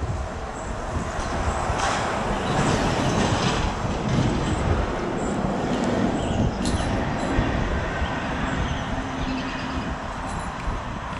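Passing train rumbles and clatters steadily at close range, a continuous broadband roar with occasional metallic squeals and clicks; the train includes an old Penn caboose with a Keystone logo.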